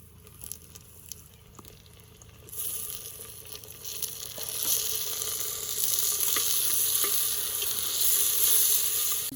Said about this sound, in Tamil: தக்காளி போட போகிறேன்.